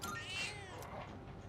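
A cat meows in the video game Persona 3 Reload, a single clear, drawn-out mew at close range with no talk over it.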